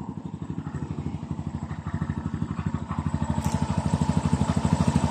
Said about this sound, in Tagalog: Ayan naman po yung sounds apido para dito sa ating Barako 2.